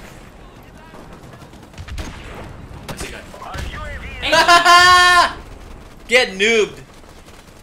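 Gunfire in Call of Duty: Modern Warfare Remastered, scattered sharp shots and bursts mixed with louder excited voices and game sounds, with players talking over much of it.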